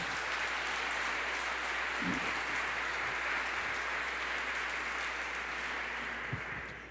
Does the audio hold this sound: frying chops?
no